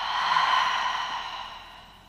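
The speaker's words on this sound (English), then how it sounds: "Take a big breath in, really expand, and big exhale." A deep, breathy exhale during a yoga stretching flow, close and audible, rushing out strongly and then fading gradually over about two seconds, with no words spoken.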